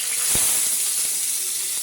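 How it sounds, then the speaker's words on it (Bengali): Onion paste sizzling in a frying pan with fish, a continuous bright hiss and crackle close up, with a few faint knocks. "শুধু পেঁয়াজ ফুটতেছে"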